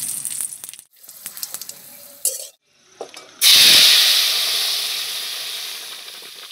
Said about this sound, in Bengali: ফোড়নের জন্য আমি এদিকে সর্ষের তেল দিয়ে দেবো কড়াইতে, 2টো তেজপাতা দেব।